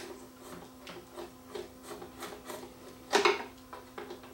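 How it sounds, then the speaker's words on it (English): Small screws being backed out of the circuit board of a wooden 1byone turntable, a run of soft scraping and clicking turns with a louder rattling burst near the end, close and without talk. "we'll just remove these two screws here and remove the circuit board"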